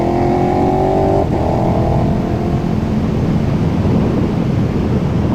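A KTM 1290 Super Duke R engine drones while riding on a winding road, a steady loud roar with a brief pitch drop at a shift, mixed with heavy wind rush at the microphone.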